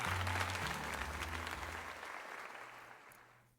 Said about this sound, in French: Allons, tout le monde applaudit son luster comme il se doit.